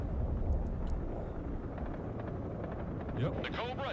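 Attack helicopters, Super Cobras in the war game Broken Arrow, roar as a dense, steady rotor and engine wash under battle noise, with a voice talking faintly over the din.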